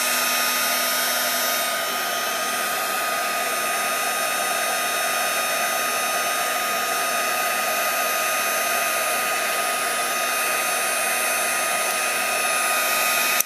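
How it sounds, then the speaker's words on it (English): A heat tool blows a steady, loud whooshing hum close by while melting white embossing powder on a card, continuing unbroken throughout with no talking. "heat emboss that"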